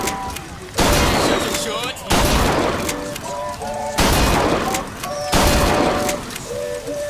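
Shotgun blasts in the video game Bioshock Infinite, five heavy booming shots spaced about a second apart, each with a sharp attack and lingering decay, mixed with game effects and chatter in the background.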